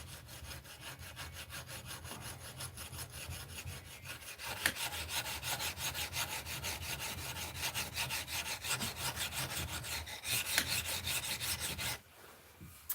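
A blade being sharpened by hand with abrasive grit gives a steady, rhythmic rasping scrape, back-and-forth strokes repeating at moderate volume for most of the span before stopping abruptly near the end.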